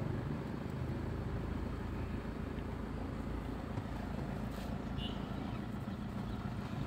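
Toyota Fortuner diesel SUV rolling in second gear with the throttle released, giving a steady, dense engine and road rumble that stays even throughout the cabin, without voices.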